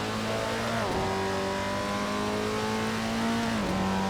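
A classic Datsun 240Z in the Assetto Corsa racing game revs hard, its engine note dropping sharply with quick downshifts, loud and continuous without speech.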